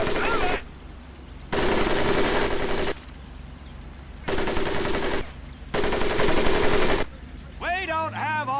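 Machine gun fire sweeps over a mud pit on a boot camp training course in Medal of Honor: Pacific Assault, in four long, loud, rattling bursts with short pauses between them, ending as a voice starts to speak.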